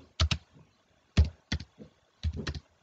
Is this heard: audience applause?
no